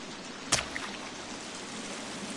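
Steady rushing roar of a waterfall in the survival game The Forest, continuous and even, broken early by one brief sharp click.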